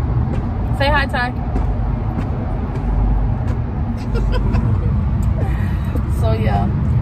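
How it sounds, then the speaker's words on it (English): Steady highway traffic rumble inside a moving car, a continuous low road roar with passing vehicles, while people talk over it. "So yeah, it's a lot of traffic now"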